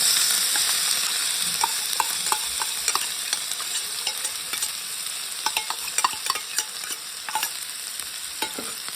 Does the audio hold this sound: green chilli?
yes